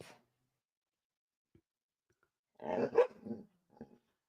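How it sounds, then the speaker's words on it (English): A dog gives a short burst of rough, growly barking close by, followed by a smaller bark, amid otherwise near silence. "I know you hear the barking."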